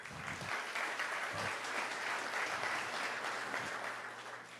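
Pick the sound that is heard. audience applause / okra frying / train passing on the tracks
audience applause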